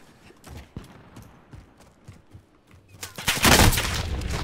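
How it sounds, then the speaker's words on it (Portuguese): Gunfire in a video game plays as scattered sharp shots and thumps, then swells into a loud, dense burst of fire near the end. A player talks over parts of it. "Caralho, é muita gente me atirando."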